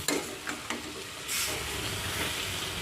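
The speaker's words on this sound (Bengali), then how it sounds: "বেগুনের সাথে ভালো করে মেশাতে হবে" Eggplant curry with dried shrimp is stirred in a pan: a few clattering scrapes up close, then a steady hissing sizzle that holds to the end.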